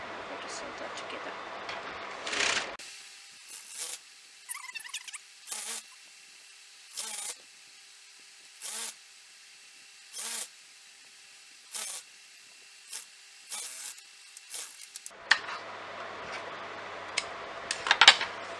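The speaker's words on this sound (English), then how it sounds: "I'm going to sew that together." A sewing machine stitches folded fabric for a front pleated kameez in short repeated bursts of rapid mechanical ticking, each lasting about a second with pauses between, and fainter handling noise before and after.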